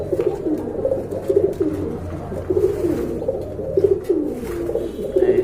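Pigeons in a loft of pet birds for sale cooing repeatedly, soft rolling low calls in a steady rhythm, close and fairly loud with no speech over them.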